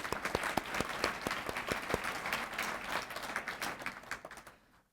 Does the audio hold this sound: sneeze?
no